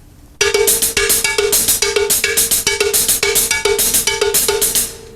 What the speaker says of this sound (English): Let's put the right hand on the cowbell and the left hand on the hi-hat.